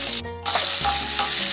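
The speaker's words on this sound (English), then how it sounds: "The oil will splutter everywhere" Onions drop into hot oil already cooking with ginger slices and garlic cloves, bursting into a loud, steady sizzle after a brief hush, with spluttering crackles continuing close by.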